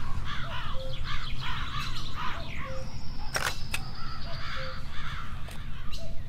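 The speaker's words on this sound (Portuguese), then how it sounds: "esses passarinhos ainda cantando aí na minha volta" Birds call through a forest in the post-apocalyptic indie game 35MM, with repeated hoarse crow-like caws and scattered chirps over a constant low ambient rumble, broken by a single sharp click midway.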